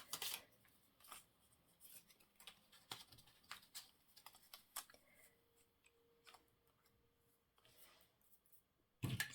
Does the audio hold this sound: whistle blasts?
no